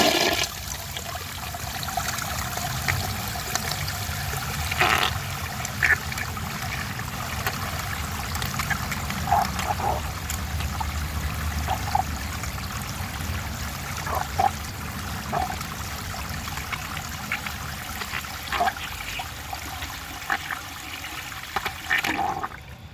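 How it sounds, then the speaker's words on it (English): 1974 Eljer Sanus low tank toilet flushing with a clogged siphon jet, a long steady rush and trickle of water running without a strong siphon gulp, with scattered faint clinks and gurgles, close and continuous. "Now let's see how it flushes with a clogged siphon jet."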